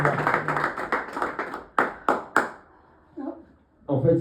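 Applause from a church congregation: a run of brisk hand claps that thins into a few loud separate claps and then stops, followed by brief voices.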